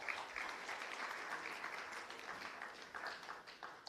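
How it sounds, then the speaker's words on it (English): Audience applause greets a journalism award winner at the Children's Champion Awards: steady, dense clapping from a crowd, fairly quiet and distant, sustained throughout with no talk over it. "a big applause for her"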